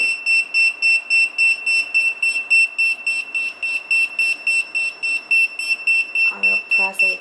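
A Retekess T119 restaurant wireless pager beeps in a fast, even train of piercing high pulses, close and loud, with a voice cutting in briefly near the end.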